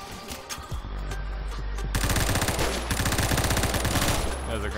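FAMAS rifle fire from Phantom Forces rattles out in fast, loud automatic bursts, nearly continuous through the second half, with faint talk underneath.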